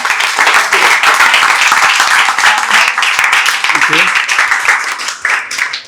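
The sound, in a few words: audience clapping for a speaker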